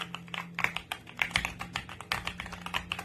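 Rapid typing on a Royal Kludge S98 top-mount mechanical keyboard, close and clear, with a steady run of crisp, solid key clacks at an uneven pace and no talking.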